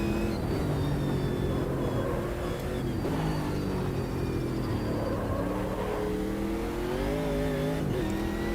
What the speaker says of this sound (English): Big rumpy V8 in front of us in the Camaro.